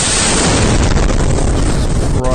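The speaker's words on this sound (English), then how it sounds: "There are explosions in Kyiv and cities in Ukraine." Explosions in Kyiv, heard as dense, roaring blast noise that fills the whole clip, loud and distorted like wind-battered phone audio, with no distinct separate booms.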